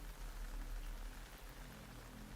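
Steady rain falls in the Metal Gear Solid 3 Snake Eater game, a soft, even hiss of drops with no voices.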